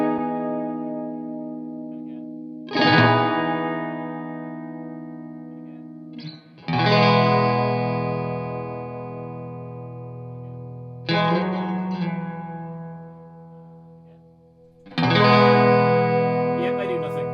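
Four separate guitar strums ring out one after another through a delay effect, each sustaining long and slowly fading with a shimmering, processed effect.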